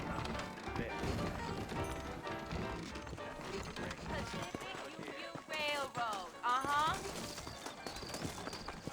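Saddled horses in the Red Dead Redemption video game, hooves clip-clopping steadily along a trail under ongoing talk, with a short horse whinny partway through.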